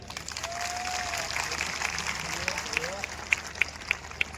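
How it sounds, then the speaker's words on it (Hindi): An audience claps together at a motivational business event, a sustained wash of applause with a few sharper, louder claps standing out near the end. "आप सभी लोगों के लिए एक बार दिल से ताली खुद के लिए बजा दो।"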